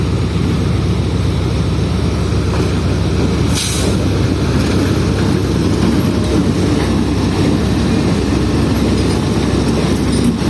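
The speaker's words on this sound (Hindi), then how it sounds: "प्लेटफॉर्म नंबर 3 पर एक ट्रेन आ रही है कराची से" A train pulling into a platform behind a GU40 locomotive, a loud continuous rumble of engine and rolling wheels close by, with a brief hiss partway through.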